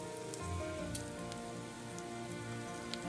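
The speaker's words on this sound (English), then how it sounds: "we're going to let that saute for a minute" Spinach sizzling in a hot pan as filling for tofu ravioli, a steady dense crackle of sautéing that holds even throughout with faint pops.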